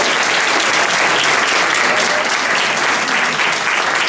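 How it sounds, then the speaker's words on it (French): Audience clapping at a seniors' day community event in Farnham, dense and loud throughout without a break, with crowd noise mixed in. "on peut les applaudir."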